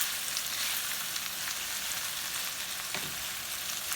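Steady, dense sizzling of a gumbo base browning with spices in a pot, continuous and fairly loud with no voices.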